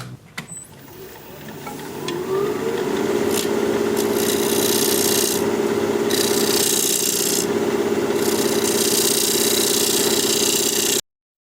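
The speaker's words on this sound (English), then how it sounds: "we're going to be turning at 1800 RPM with a 1/2 inch standard grind bowl gouge" A wood lathe spinning at 1800 RPM while a 1/2 inch standard grind bowl gouge cuts a bowl, giving a steady loud scraping rasp over the motor hum that starts after a second or two and runs continuously before stopping abruptly.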